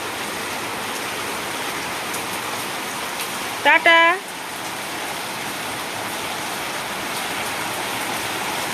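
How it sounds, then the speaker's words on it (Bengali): Heavy rain falls steadily in the morning, a continuous hiss running through the whole stretch, with a brief spoken word from someone partway through. "প্রচুর বৃষ্টি হচ্ছে, দেখো প্রচুর বৃষ্টি সকাল থেকে।"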